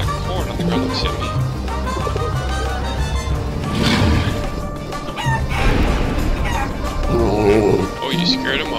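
A chicken in the game Guacamelee clucks and crows over the game's music, with a voice talking through much of it; the bird calls come in short bursts, close and fairly loud.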